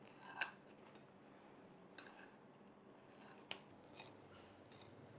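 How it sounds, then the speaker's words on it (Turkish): Scissors snip into a Neapolitan pizza with an extra-crispy crust, giving a few faint, sharp crunchy cuts spaced a second or more apart in a quiet room. "Ben şimdi makasla giriş yapıyorum."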